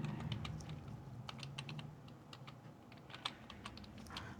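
Someone types an Excel LOOKUP formula on a computer keyboard, a quiet, uneven run of close key clicks and taps with short pauses between bursts.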